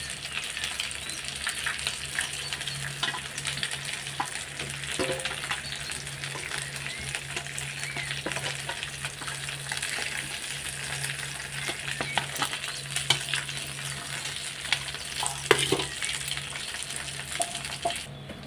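Magur fish frying in hot oil in a pan, a continuous dense sizzle and crackle that stays steady and close throughout, with a faint low hum underneath and no voices.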